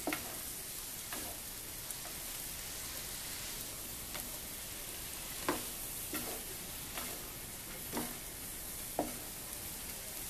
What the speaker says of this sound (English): the frying pan just kind of went wah wah wah wah.